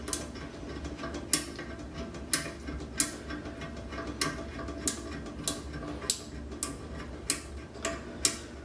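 Sharp ratcheting clicks from a bolt fastener being threaded on a toilet, spaced roughly every half second to second in a steady rhythm over a quiet background, close and crisp with no talk.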